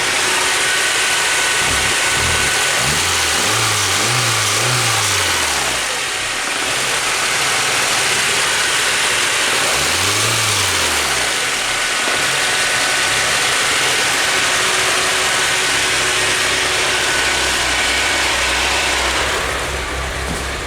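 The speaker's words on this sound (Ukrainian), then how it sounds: "І вентилятор включається, і моторчик рівненько працює" A Daewoo Sens car engine runs at a steady idle under a constant loud whooshing radiator cooling fan, with a few brief low whirring rises and falls.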